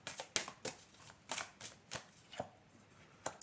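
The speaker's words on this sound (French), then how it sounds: "Je vais rajouter une petite carte." Tarot cards shuffled by hand in a run of brisk, papery riffles and taps, close and fairly quiet, with short pauses between bursts and no voices.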